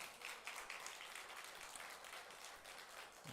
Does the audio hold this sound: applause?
yes